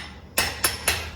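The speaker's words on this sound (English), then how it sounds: "I would hammer this out" Three sharp metallic hammer strikes flatten a brass or steel joint on a workbench in a museum mount-making lab, evenly spaced and close, each ringing briefly before the next blow.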